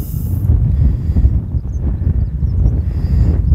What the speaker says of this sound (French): ici, il y a beaucoup de vent.